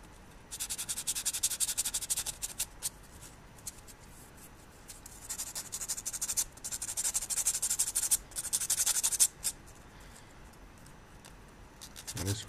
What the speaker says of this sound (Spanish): lo que estoy haciendo ahora es lijarlas un poquito para envejecer la madera